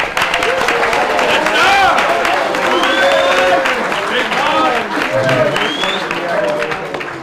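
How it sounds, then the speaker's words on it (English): A banquet crowd gives a round of applause amid loud cheering, whooping and excited voices, the clapping blended under a constant roar of chatter and shouts throughout. "Can we just get a round of applause for Mike in that video?"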